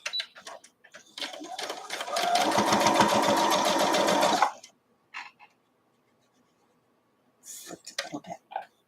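A sewing machine stitches a quilt block in one steady, fast whirring run of about two seconds, close and loud, with brief handling noises and a voice speaking quietly before and after.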